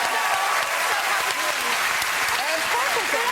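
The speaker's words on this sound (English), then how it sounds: "a round of applause for all those drummers." Studio audience at a TV chat show applauding drummers, a dense, steady roar of clapping that fills the whole stretch, with a host's voice cutting in over it.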